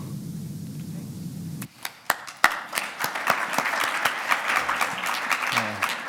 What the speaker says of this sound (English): A big round of applause for Deb and for MFE and Manaaki Whenua Landcare Research.